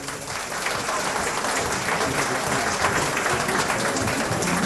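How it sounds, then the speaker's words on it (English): A crowd at a song contest bursts into sustained applause, many hands clapping together in a dense, steady wash that swells slightly and holds. "What about a bit of applause?"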